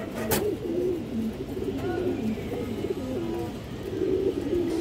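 Several pigeons coo steadily and close by, their low, warbling murmurs overlapping throughout, with one brief sharp sound near the start. The birds are a large-headed mated pair of domestic pigeons, a male and a female, of a high-flying breed.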